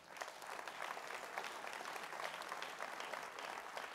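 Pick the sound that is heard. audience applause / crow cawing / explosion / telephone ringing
audience applause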